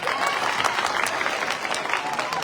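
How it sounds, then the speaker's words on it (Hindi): Villagers clap steadily at an outdoor open-gym inauguration event in an Indian village, a dense, continuous patter of many hands that fills the whole stretch, with voices faintly mixed in. "इनके लिए भी ताली बजा दो।"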